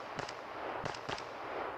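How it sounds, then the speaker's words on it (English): Rifle gunshots at an outdoor shooting match, a few sharp cracks heard as a pair of reports and then another pair, moderately distant and muffled over steady wind-like background noise. "You had to shoot twice."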